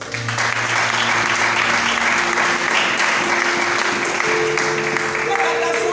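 A church congregation applauds during an Easter celebration service, with steady, loud, continuous clapping that fills the room alongside crowd noise and a few voices.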